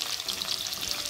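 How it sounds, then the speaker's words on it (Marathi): Large cauliflower pieces fry in a pan, making a brief, loud, even crackle of hot oil heard up close. "फ्लावर सुद्धा छान आपण फ्राय करून घेतलेली आहे"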